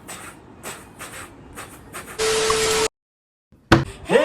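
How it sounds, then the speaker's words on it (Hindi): A local train passes in short bursts of rattling and hissing, a loud steady roar for a moment, then sudden silence before another burst with a faint tone. "लोकल ट्रेन का आवाज मुझे निकल रहा था।"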